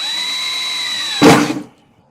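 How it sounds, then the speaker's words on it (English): A power drill whines steadily for over a second while drilling a pilot hole to mount a KLR650 pannier, then a brief louder burst as it bites in before stopping abruptly, leaving silence. "Drill the pilot hole."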